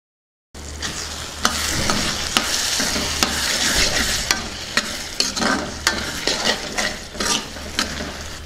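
A pan of pool makhani and green pea curry being stirred, repeated scraping strokes of a spoon against the pan over a bubbling sizzle, growing more rhythmic toward the end, close and fairly loud, with no talk.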